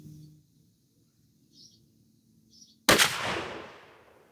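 A single Mossberg 835 pump shotgun with an extra-full choke firing a 3-inch Remington Express Magnum 000 buck shell outdoors, one sharp, loud blast with a ringing decay, after a quiet stretch with faint bird chirps.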